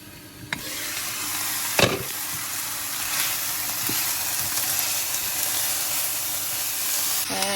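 Jarred garlic sautéing in a pan until slightly browned and soft, a steady broadband sizzle throughout with a few sharp clinks of a utensil against the pan.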